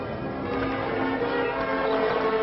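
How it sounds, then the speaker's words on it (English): Cathedral church bells ring on and on, a dense wash of overlapping metallic tones with a steady loud level and no clear gaps, heard alone without voices. "People rejoiced in the streets as cathedral bells announced special masses of thanksgiving."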